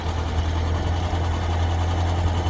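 A Gazelle kit car engine idles steadily and smoothly, a constant low rumble with a faint mechanical clatter that holds even throughout, close to the microphone with no talk over it.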